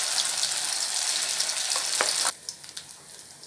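Ground paste for mor kuzhambu goes into hot oil with mustard seeds, urad dal and dried chillies, giving a loud frying sizzle that suddenly drops to a softer bubbling with a few light clinks.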